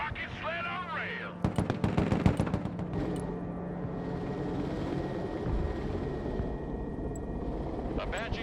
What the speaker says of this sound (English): Apache gunship.